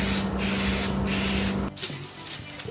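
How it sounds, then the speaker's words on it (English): An aerosol can of spray adhesive hisses in steady bursts, a close continuous spray briefly pausing twice before cutting off, followed by faint handling noise. "stick this on here with a bit of spray adhesive"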